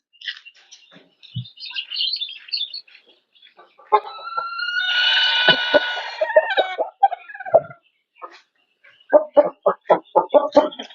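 Chickens in a cage cluck and squawk at close range, with a burst of louder agitated calling midway and a quick run of short rhythmic clucks at the end.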